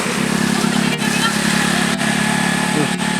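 A motorcycle engine running unevenly on a short-film set gives a steady, close mechanical drone that drops out briefly about once a second.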